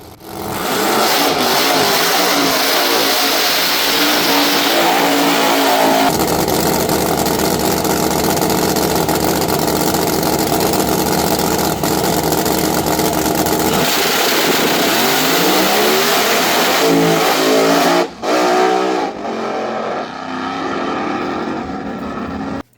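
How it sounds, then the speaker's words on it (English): Drag race car The Shadow 3.0 does a big smoky burnout at a Street Car Braggin Rights event, its engine bouncing hard off the rev limiter in a loud, sustained, stuttering roar that briefly drops out near the end before cutting off. "So that big old smoky burnout, the fans loved it."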